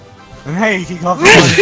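A single sharp sneeze bursts out near the end, right after a man's brief spoken line, close and loud.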